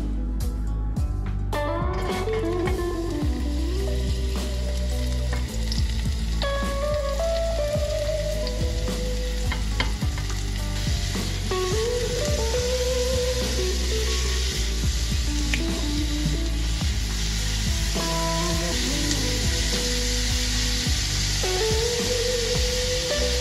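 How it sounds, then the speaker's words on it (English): Vegetables such as asparagus sauté in a hot pan, giving a steady, loud sizzle that runs throughout, with occasional utensil clinks on top and no talk. "And now let's go start saute our vegetables."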